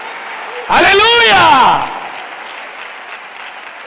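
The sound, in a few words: congregation applauding in church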